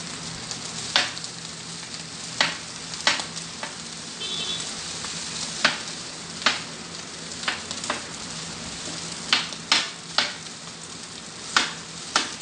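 Rice frying in oil on a Blackstone griddle, giving a steady bright sizzle with repeated sharp scraping and tapping of a spatula against the flat top throughout.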